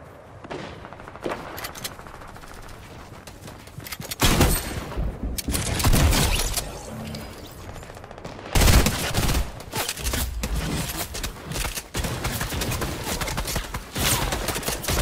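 Gunfire in the Roblox game Arsenal: loud, dense bursts of rapid shots that come in waves, with brief quieter gaps between volleys and no talking.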